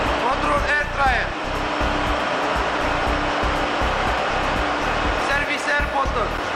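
A control air dryer runs in a ship's engine room, a loud steady mechanical whoosh and hum amid constant machinery noise, with a voice speaking briefly.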